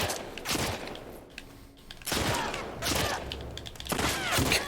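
Gunfire in the video game The Last of Us Part II, heard as several loud, close bursts of rapid shots with short gaps between them and echoing tails.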